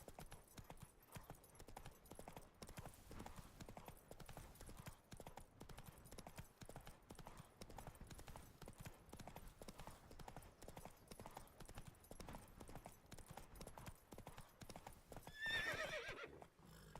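Steady, rhythmic hoofbeats of a galloping horse in The Witcher 3, a continuous clip-clop running throughout with a short whinny near the end and faint game ambience beneath.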